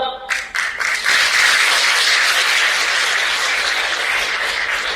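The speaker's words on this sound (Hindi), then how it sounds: "ताली बजाने से नहीं होगा," An audience at a Shiv Guru spiritual discourse breaks into loud, sustained applause, many hands clapping densely together after a couple of sharp opening claps and holding steady to the end.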